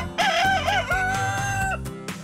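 At a farm, a rooster lets out a single loud, close crow in a drawn-out wavering call, with a few soft clucks around it.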